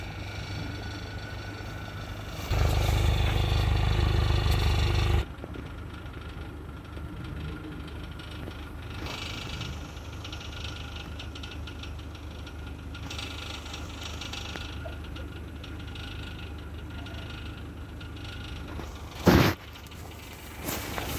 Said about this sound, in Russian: Сегодня появился новый посторонний шум. Скорее всего, это выхлопная труба.